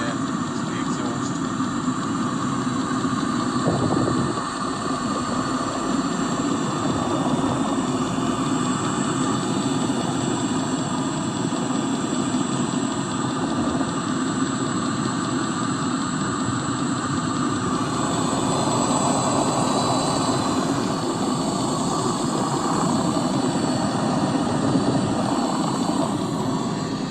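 A Webasto fuel-burning heater runs steadily, its exhaust blowing hot gas in a constant broadband roar heard close by for nearly half a minute, with a voice talking over it.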